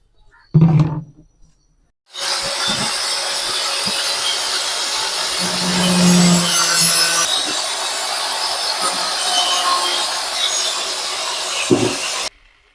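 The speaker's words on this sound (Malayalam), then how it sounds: "നമുക്ക് നമുക്കിനി ഗ്രൈൻഡറിന് കട്ട് ചെയ്തെടുക്കാം" An angle grinder cuts through the marked base of a handmade plant pot, a steady loud grinding drone lasting about ten seconds after a brief starting burst, then stopping abruptly.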